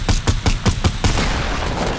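A rapid burst of about six loud gunshots in Fortnite fires in quick rhythm, then fades into a lingering noisy rumble.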